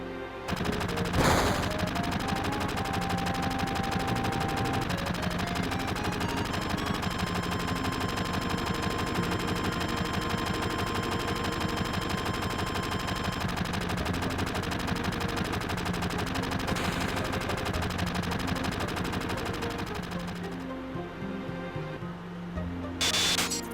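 Sustained automatic gunfire from the Final Fantasy VII video game, a dense, continuous rattle of shots with a sharp burst near the start, ending in a brief quieter gap and a final crack.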